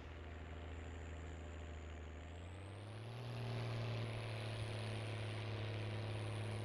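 A tractor engine running steadily on a dairy farm, a continuous low drone that rises a little in pitch and loudness partway through as the revs climb.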